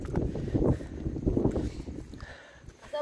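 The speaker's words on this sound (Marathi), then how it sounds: "वारा तर सतत चालूच आहे." Wind blowing outdoors near Kumbhe waterfall, gusting buffets against the microphone in uneven low rumbling surges that ease off toward the end.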